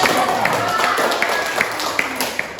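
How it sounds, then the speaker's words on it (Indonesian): Students in a classroom applaud the first-place quiz winner, a continuous burst of clapping from a small group with voices mixed in beneath it. "Tepuk tangan"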